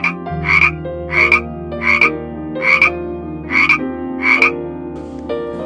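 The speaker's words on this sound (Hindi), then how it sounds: "मेढक के टर्र टर्र की आवाज उसके कानों में पड़ी" A frog croaks in six evenly spaced, fairly loud bursts, each a short raspy call, over a steady sustained musical drone.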